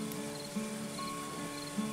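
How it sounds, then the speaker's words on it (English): Crickets at sunset, a steady high chirping that runs continuously at low level in the background, with faint repeated pulses and no voices. "You can hear crickets chirping in the background."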